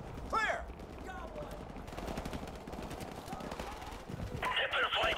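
Machine gun fire in the video game Call of Duty Modern Warfare, rapid bursts of shots running through the whole stretch amid other battle noise, with a voice talking over it.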